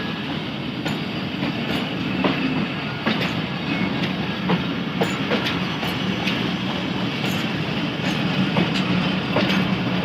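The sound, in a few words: train departing from Bhakkar railway station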